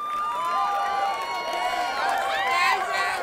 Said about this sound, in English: Keep clapping, I'm tired